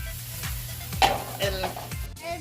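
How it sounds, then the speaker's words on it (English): Sausage, peppers, paprika and white pepper stirred together in a pan, with soft scraping strokes and a faint sizzle repeating every half second or so, close up. "At this point, I'm gonna mix everything."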